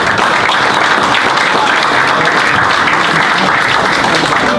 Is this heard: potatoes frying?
no